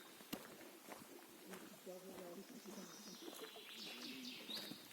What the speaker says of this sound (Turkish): Kuş sesini duyuyor musunuz bak.